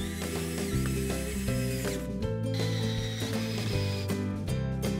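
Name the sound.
screws being driven to assemble a wooden frame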